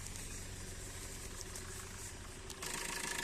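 A 2017 Maruti Suzuki S-Cross Zeta diesel engine idling nearby, a steady low rumble that swells a little louder near the end, with no talk.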